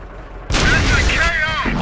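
Tank gun shot in the World of Tanks video game, a sudden loud blast after a quiet moment, followed by a decaying rumble with game effects; voices chatter around it.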